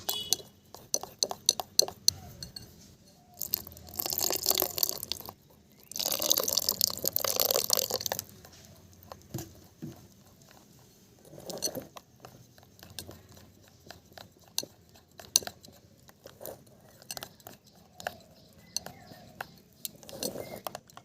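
Fish finger batter for Vetki fish being mixed in a bowl, giving repeated clinks and wet scraping against the bowl, loud bursts early on then lighter taps, with soft talk in between.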